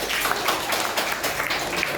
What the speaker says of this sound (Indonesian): Tepuk tangan yang jawabannya betul.